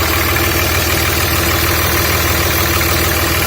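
A 2003 Dodge Ram pickup with the 5.9 Cummins diesel running steadily, a constant loud engine drone with a low rumbling idle character and no voices.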